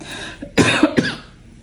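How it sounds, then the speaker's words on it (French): A few quick coughs in a row, close and fairly loud, fading into quiet afterward. "Vraiment une toux qui m'embête depuis des semaines."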